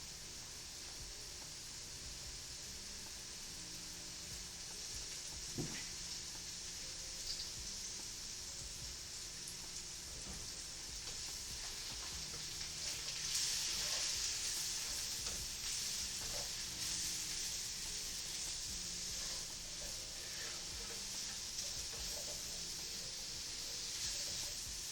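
Mushrooms frying in a hot pan give a steady, even sizzle and crackle that runs the whole time, rising a little partway through, with no talking over it.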